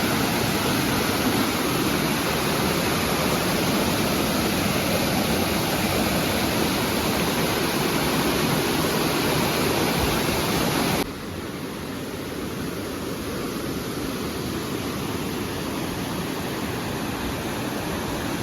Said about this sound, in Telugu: ఇక్కడ వాటర్ ఫాల్ మీకు అంత క్లారిటీగా చూపించలేను, బట్ ఫ్లో అయితే చాలా ఎక్కువగానే ఉన్నది